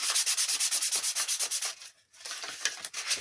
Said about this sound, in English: Do some hand sanding.